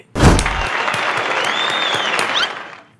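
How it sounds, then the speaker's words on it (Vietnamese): A short, loud round of applause erupts all at once, holds as a dense wash of clapping for about two seconds, then drops away, with a thin whistle-like tone rising through it. "Một tràng pháo tay dành cho video đầu tiên."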